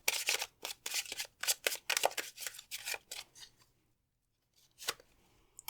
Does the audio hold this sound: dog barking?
no